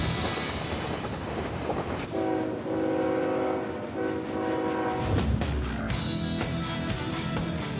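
A Rocky Mountain train rumbles past with rhythmic track noise and a sustained tonal horn-like hum, loud and close, ending in a heavier clattering roar.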